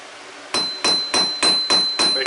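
A hammer strikes hot metal while forging a taper, six sharp ringing blows in an even rhythm after a brief quiet start, each hit loud and close with a bright metallic ring decaying between strikes.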